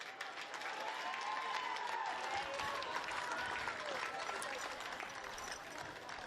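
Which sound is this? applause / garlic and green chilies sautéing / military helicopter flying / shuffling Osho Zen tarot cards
applause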